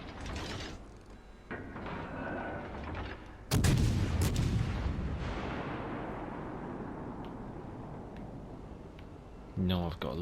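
A warship's main guns fire during a World of Warships Legends naval battle as HMS Cheshire engages enemy ships: one sudden loud boom with a long rumbling decay, with mechanical clanks before it and a voice talking over the game.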